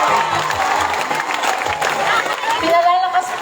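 A crowd at a political proclamation rally in Cabanatuan claps and cheers loudly and continuously, with shouts and chatter mixed into the steady applause and a voice speaking over it.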